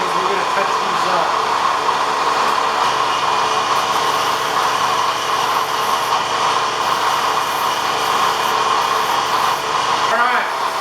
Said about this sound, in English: the milling machine's almost done